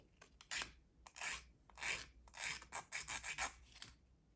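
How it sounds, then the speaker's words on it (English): An emery board rasps against the end of a metal jewelry clasp in short, quiet, repeated strokes, a close dry scratching in an irregular rhythm with gaps between passes. "you can come back in with your emery board and just gently"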